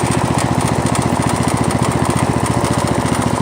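A Poulan lawn tractor engine runs steadily at its first start of the season, a loud, close, rhythmic chugging drone with no speech.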